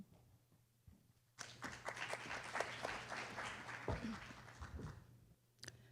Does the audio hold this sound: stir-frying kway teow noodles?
no